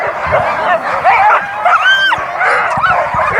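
Many sled dogs bark, yip and whine together at the start line of a dog-sled race stage, a dense, continuous chorus of excited yelps and high whimpers at close range.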